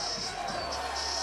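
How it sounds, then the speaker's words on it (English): A large crowd roars and cheers at Nathan's Hot Dog Eating Contest in 2017, a steady, dense wall of noise with no break across the moment. "Listen to that crowd."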